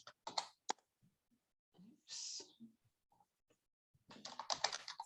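Computer keyboard typing in short quiet clusters of key clicks, spread out with gaps between them, while a person speaks softly at times nearby.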